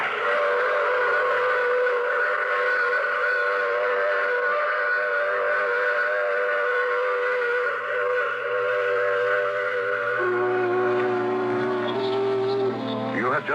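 Train whistle sound effect in an old radio drama, one long sustained chord-like blast held steadily for over ten seconds before bending and fading at the end.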